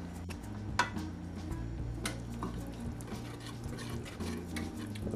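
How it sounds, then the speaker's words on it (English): A whisk stirs cheese sauce for baked macaroni and cheese in a pan, making quiet, rhythmic scraping and ticking strokes under a low steady hum. "I'm gonna continue whisking until everything comes together"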